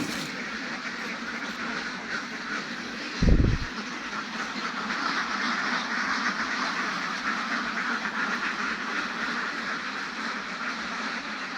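A flock of egg-laying ducks, including newly added birds, gives off a steady murmur of quacking and chatter across the whole stretch, with one short low thump near the start.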